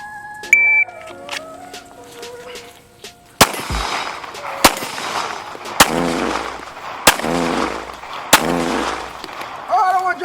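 Glock 19 pistol fired outdoors: about five loud, sharp gunshots spaced a second or so apart, each with a brief ringing decay, following quieter handling noises and talk.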